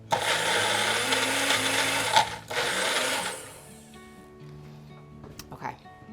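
A kitchen blender whirs through a short, quick blitz of olive oil sauce with nasturtium, running loud for about three seconds before winding down, with a person talking around it.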